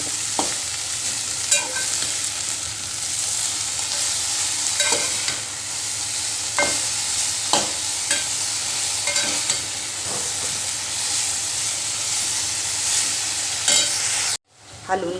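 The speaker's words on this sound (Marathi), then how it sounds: "हलवून घेतली भाजी." Dill greens fry in a pan, hissing steadily up close while a utensil stirs and scrapes them in intermittent clacks, ending with a brief break.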